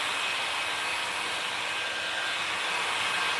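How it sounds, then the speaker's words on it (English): Steady broadband blowing hiss of a heat gun warming and shrinking window tint film on the rear glass of a 2013–2016 Chevy Malibu, continuous and close with no pauses. "Let the heat gun do the work."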